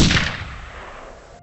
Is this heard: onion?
no